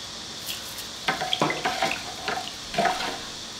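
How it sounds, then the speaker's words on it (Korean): Salted brine water for kimchi is poured into a bowl in several splashing bursts, a gurgling pour that starts and stops over a few seconds, close and clear with no talk. "절여놓은 물을 여기에 넣어줍니다."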